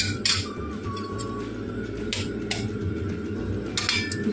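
Eggs are beaten in a dish with pepper and salt, giving a run of light clinks and taps from utensil on dish over a steady background hum, with no voices.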